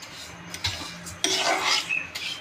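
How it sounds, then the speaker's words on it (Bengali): Mung dal being dry-fried in a pot for khichuri, giving a close scraping, rasping stir with light metallic clinks of a spoon against the pot, in uneven bursts and no talk. "আমি খিচুড়ির জন্য মুগের ডাল ভাজা শুরু করে দিয়েছি"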